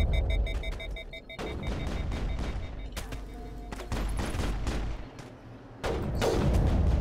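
Sporadic gunfire from Geth enemies in the Mass Effect video game, with bursts of sharp shots cracking over a steady rumbling battle backdrop, several clustered volleys at intervals and a louder barrage near the end.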